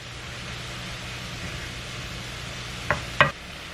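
Radish greens sauté in a pan over medium heat, giving a steady close sizzle with a couple of sharp clinks or scrapes near the end.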